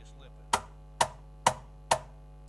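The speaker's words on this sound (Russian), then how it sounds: "Также конструкция позволяет делать громкие резкие слэпы." Four loud, sharp slaps on a Schlagwerk cajon, evenly spaced about half a second apart, each a crisp percussive crack with quick decay over a faint steady electrical hum.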